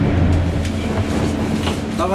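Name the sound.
train arriving in Graz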